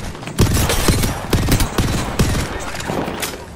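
Rapid bursts of automatic gunfire in the battle royale game Apex Legends, loud and close, firing in several clustered volleys with short gaps between them.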